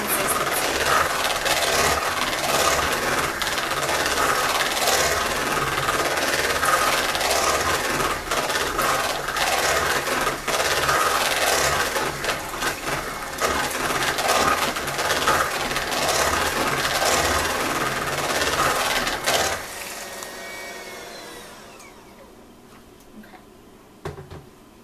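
Electric mixer on high speed blending thick Holy Cow Cake batter, a steady loud whirring hum for about twenty seconds that then winds down and fades to quiet.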